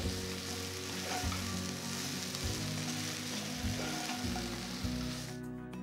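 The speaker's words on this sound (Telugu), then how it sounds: "కాకరకాయ ముక్కలు బాగా ఫ్రై అయిపోయిందనమాట" Bitter gourd pieces sizzle steadily in a pan for a kakarakaya ullikaram fry, a loud dense hiss with a low hum underneath, cutting off abruptly near the end.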